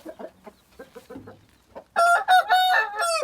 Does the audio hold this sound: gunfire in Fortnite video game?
no